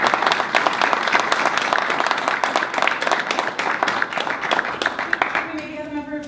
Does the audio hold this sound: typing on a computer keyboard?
no